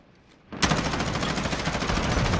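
Rapid automatic gunfire in a video game, loud and sustained, bursting in suddenly after a quiet moment and continuing as a dense rattling stream.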